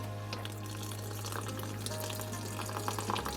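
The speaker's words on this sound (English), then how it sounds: "I'm just going to fill this bowl with water" Steady rush of tap water running into a bowl, a constant splashing hiss with faint clinks near the end.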